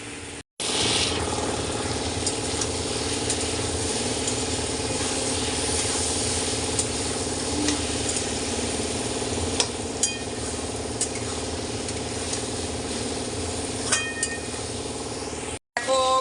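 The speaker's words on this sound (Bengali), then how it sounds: "আর আমার চিমনির যা আওয়াজ বাবারি বাবা" A kitchen chimney exhaust hood runs loudly above a stove while fish fries, a steady droning hum filling the room with a few faint clinks of utensils.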